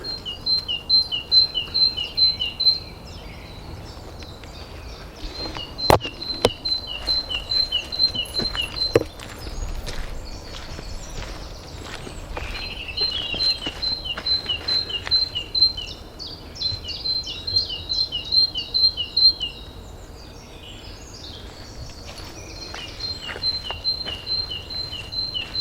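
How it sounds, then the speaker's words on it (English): An unidentified bird sings outdoors in a series of short, repeated high chirping phrases, moderately near. The phrases come in bursts separated by brief pauses over a quiet background with occasional soft clicks. "Wow, listen to that bird."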